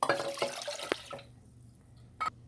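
Water being poured into a pot holding sugar while making Haitian liqueur: a short splashing pour that fades, followed by a single drip-like splash near the end.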